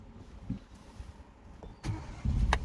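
A Ford EcoSport ST Line's engine restarts from stop-start, a quiet cabin hum broken by a couple of soft clicks before a brief firm crank and catch near the end.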